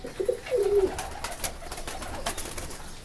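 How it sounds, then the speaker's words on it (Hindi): A Kale chapdar pigeon, a strong-bodied bird, gives a short low coo up close, followed by quieter soft rustling. "बहुत ही ज़बरदस्त कबूतर है माशाल्लाह से"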